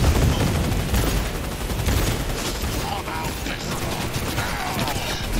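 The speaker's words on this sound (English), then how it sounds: "That machine gun he's got is a killer, honestly" Machine gun fire in the video game Cyberpunk 2077, dense rapid bursts of shots with mechanical clatter, loud and continuous throughout.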